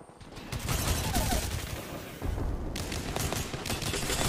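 Rapid video game gunfire crackles in dense bursts, loud and continuous, with a brief lull midway before the shooting resumes.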